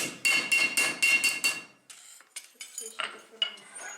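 A blacksmith at an open-air museum forge hammers a punch through hot metal, striking six sharp ringing blows in a steady rhythm, then a scattering of lighter, duller taps and clinks.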